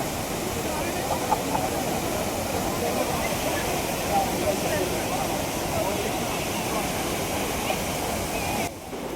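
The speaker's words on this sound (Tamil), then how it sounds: "அருவியை பார்த்தீங்களா எப்படி இருக்குது பாருங்கள்" Athirapally waterfall roaring as a steady, dense broadband rush that holds even and loud throughout, with a brief dip at the very end.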